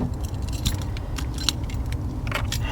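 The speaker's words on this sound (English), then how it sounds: "Hang up the keys." Keys jingle and clink in short bright bursts as a ring of keys is hung up inside a parked truck, close and fairly loud over a low steady background hum.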